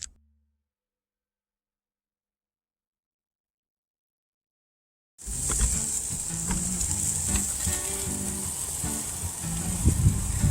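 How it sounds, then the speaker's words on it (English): Balsamic-glazed pork ribs sizzle on a grill, a steady close crackling hiss with small pops that starts abruptly after about five seconds of silence and continues to the end. "I've got my ribs on the grill and I'm going to cook them on 2 minutes on each side"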